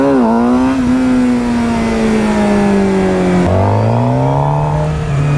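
A motorcycle engine revs loudly and close in first gear for wheelies, holding a sustained strained drone that sags slowly, then jumps to a fresh rising surge as the clutch is worked.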